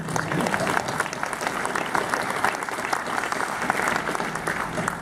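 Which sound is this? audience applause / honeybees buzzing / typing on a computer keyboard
audience applause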